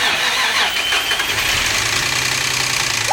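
A built Nissan 350Z engine cranks and fires for its first start, a loud continuous churn of the starter and engine running rough and steady throughout, with no voices over it.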